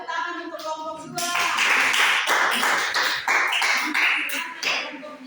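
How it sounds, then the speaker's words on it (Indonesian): Classroom audience applauding a student group after its presentation, loud, dense clapping that swells after a second and holds for several seconds with scattered voices mixed in. "kita berikan tepuk tangan untuk kelompok 2"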